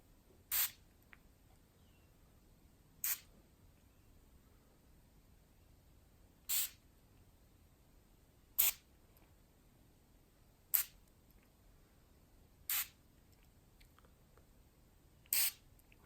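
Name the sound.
pillow mist spray bottle spraying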